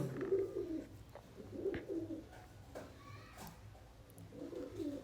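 Domestic pigeons coo softly in a backyard loft, several low, muffled calls recurring in the background amid quiet rustling and faint household noise.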